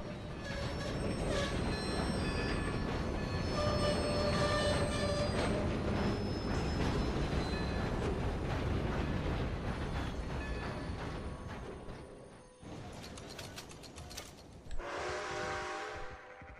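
Train rolling along rails in Red Dead Redemption 2, a loud steady rumble and clatter of wheels with metallic squeal, then quieter rattling and a brief hiss of steam near the end.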